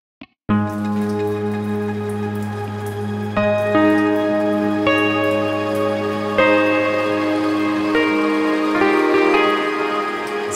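The Echoes in the Rain ambient preset from the Ambient Dreams library for UNIFY plays a sustained, shimmering synth pad. A chord swells in after a brief click, then new tones enter and layer on top, loud and close with no voices.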